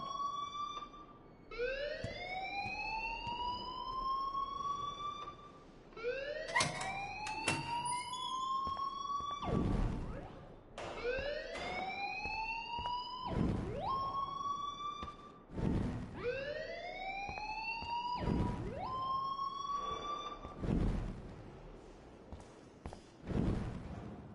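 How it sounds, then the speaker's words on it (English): A school alarm rings in Life Is Strange, a loud, repeated rising electronic wail sweeping upward again and again with sharp broadband bursts between sweeps, alone with no talking. "please turn off that alarm since that's your job"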